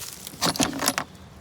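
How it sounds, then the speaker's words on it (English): A set of Allen keys jangles briefly during a log splitter engine swap, a short close metallic rattle of a few bright clinks lasting about half a second. "used these Allen keys here"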